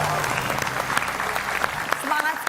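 A studio audience at a television comedy show applauds in a lively, continuous clatter of clapping while a voice talks over it.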